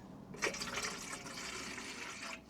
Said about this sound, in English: Let's pour that in.